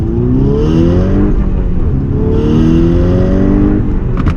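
A modified 2012 MK6 Volkswagen Golf R engine revs loudly in first gear, pitch climbing and falling in two sweeping rises, close and steady with no talking.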